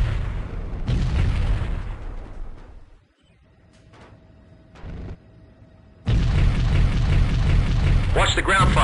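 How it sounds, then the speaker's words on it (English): Heavy ground-fire explosions in the helicopter combat game Comanche Gold, deep booming blasts that roar loudly, fade into a lull with a couple of muffled bursts, then erupt again in a sustained rumbling barrage. "Watch the ground fire, 2-7."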